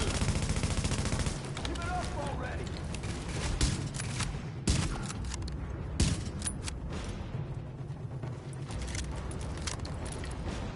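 Automated base turret in The Division firing at enemies during a firefight, with rapid bursts of gunfire under constant combat noise and game sounds throughout.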